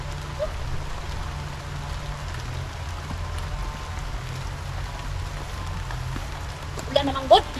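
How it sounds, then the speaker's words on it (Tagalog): Rain falls steadily as a continuous even hiss over a low background hum, with a brief louder clatter near the end. "Wala na, maulan."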